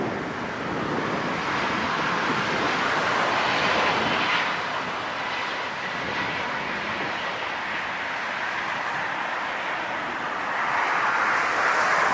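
An Austrian Airlines jet airliner at LAX produces a steady, loud, broadband engine roar that holds evenly throughout and swells slightly near the end. No one talks.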